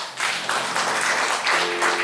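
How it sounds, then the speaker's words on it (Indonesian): Lively applause from a church congregation during a worship service, dense continuous clapping that swells slightly midway and holds strong to the end. "Kita tepuk tangan yang paling meriah buat Tuhan kita"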